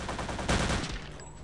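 Rapid, dense gunfire from the World War II shooter Return to Castle Wolfenstein, a loud continuous burst of shots with a heavier blast midway, then tapering off.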